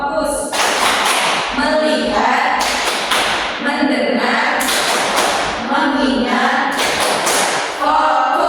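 A classroom group does a rhythmic clapping chant: sharp claps in quick patterned bursts alternate with voices chanting together, loud and close.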